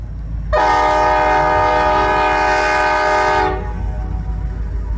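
A passenger train rumbles along as its horn sounds one long, loud blast of about three seconds, then the rolling noise continues.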